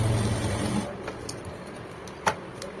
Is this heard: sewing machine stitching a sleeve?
yes